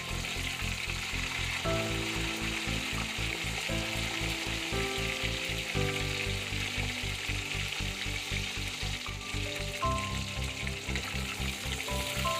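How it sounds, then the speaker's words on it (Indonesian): Continuous loud sizzling of fish frying in hot oil, a dense crackling hiss with a steady background tone and no speech. "Jadi ini mau aku goreng selayang aja"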